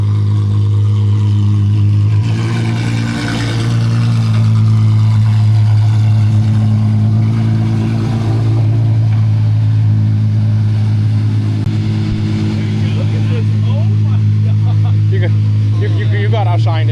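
An Apollo IE supercar in exposed purple carbon, its loud engine droning low and revving up, with people talking excitedly close by over the engine noise.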